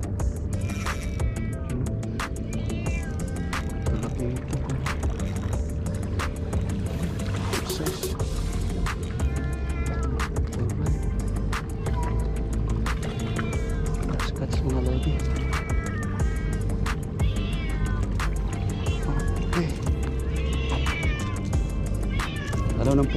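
A cat meows repeatedly in short, pitched calls, some drawn out like a caterwaul, close by during a fishing outing in Oman, over a constant low hum of water and engine noise, with people talking at times.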